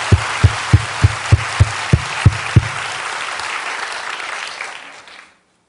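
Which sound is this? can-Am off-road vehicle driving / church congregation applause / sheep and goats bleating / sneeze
church congregation applause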